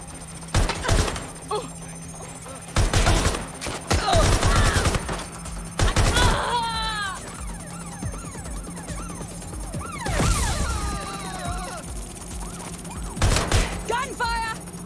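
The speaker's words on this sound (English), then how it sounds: "Gunfire!" Bursts of gunfire crack repeatedly in clusters, loud and close, with shouting voices and clattering impacts between volleys, in the video game Watch Dogs: Legion.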